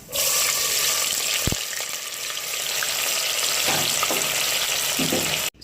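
Chopped onions dropped into hot oil with browned cumin seeds for zeera aloo, a loud steady sizzle that holds evenly for several seconds with a few faint stirring clinks, close up and without speech.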